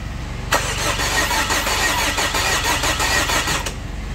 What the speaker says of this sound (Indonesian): Nah, sekarang kita setir mobilnya.